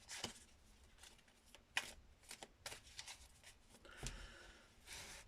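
Tarot cards are shuffled up close for a reading, giving soft riffling and slapping bursts at an uneven rhythm, quiet and with no voices.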